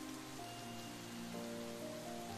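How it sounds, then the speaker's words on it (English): Steady rain pours down at night in the game Psychedelica of the Black Butterfly, a constant close hiss under a soft, sustained musical tone, with no voices. "When night falls, so too does the rain."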